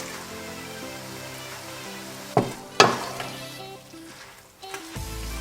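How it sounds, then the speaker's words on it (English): Noodles stirred in a hot pan with sauce about to go in, a steady close frying sizzle with a couple of sharp scraping clatters partway through and a softer hiss toward the end. "I'm then gonna go and add my noodles. I'm gonna give that a big stir."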